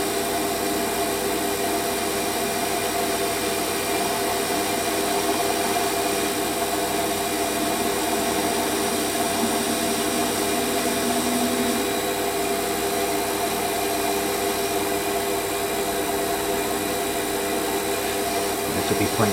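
Metal lathe running at about 800 RPM while turning a ball-turning tool part: a loud, steady, continuous machine hum and whine throughout, with no talk.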